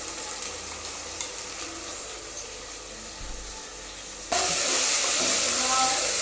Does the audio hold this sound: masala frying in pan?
yes